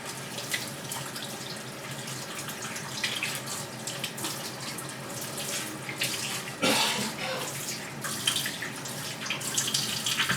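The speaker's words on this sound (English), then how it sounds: "So now I'm going to wash my hand." A tap runs steadily for washing hands while making handmade unscented olive oil soap, with continuous splashing and a brief louder gush partway through.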